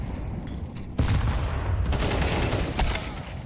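Automatic weapon spraying in Counter-Strike, a sustained burst of rapid gunfire that kicks in suddenly and rattles on for a couple of seconds, loud and near amid faint game ambience.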